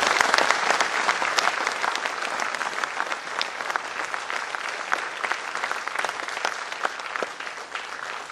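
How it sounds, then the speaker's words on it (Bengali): Sustained audience applause fills an auditorium in honour of an acid attack survivor at an Independence Day special event, dense and steady throughout with no speech over it. "এই মুহূর্তটাকে সম্মান জানা একটা জোরে হাত তালি মারুন"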